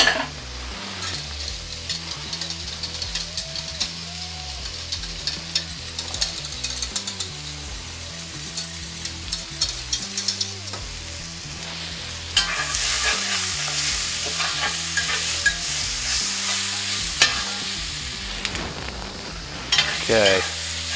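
Onions and peppers frying in a pan for cheesesteak, a loud steady sizzle with a busy stirring scrape running throughout and briefly growing louder midway.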